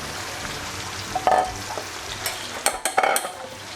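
Naem (Thai fermented beef) and beef ribs fry in oil already used for several batches, giving a steady close sizzle broken by a few clinking stirs and scrapes toward the end.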